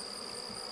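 Honey bees buzz around small nucleus colony hives, a steady close hum that continues evenly without a break.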